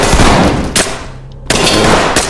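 Loud automatic gunfire in a tactical shooter game, two sustained bursts of rapid shots close by, broken by a brief pause.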